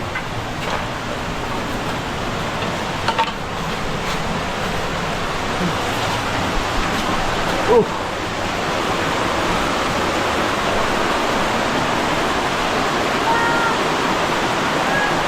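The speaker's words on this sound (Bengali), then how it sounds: "ঝর্ণাটি চোখে পড়লো" The Dhuppani waterfall roars as a dense, steady broadband rush that stays loud and constant throughout, with no clear voices over it.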